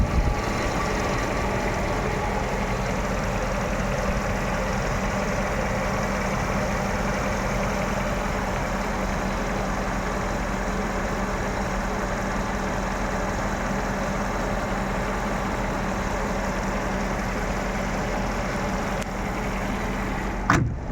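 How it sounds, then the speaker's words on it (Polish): Mercedes W124 E420 V8 engine idling steadily, a continuous low rumble with even tone throughout, close and fairly loud, no talking. "posłuchajcie tego silnika"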